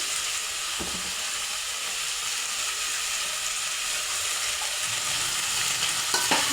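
Curry with red chilli powder and salt is stirred in a hot pan, a steady, close hissing sizzle broken by a few scraping stirs and a clink near the end, with no talking.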